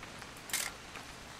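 A camera shutter snaps once in What Remains of Edith Finch, a short crisp click standing out against a quiet, low background hum, with no talk over it.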